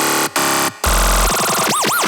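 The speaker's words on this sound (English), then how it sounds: "that sound is actually surprisingly a lead that I had just pitched down" A synth lead pitched down an octave with FM in FL Studio, heard alone as loud buzzy sustained tones broken by short gaps, shifting into a rough low drone and then swooping, arching pitched sweeps.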